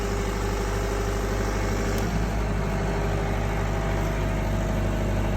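A Mitsui APW-50 three-phase 50 kW generator runs steadily under load, giving a constant, even engine drone with a low, regular pulsing hum that holds at one level throughout.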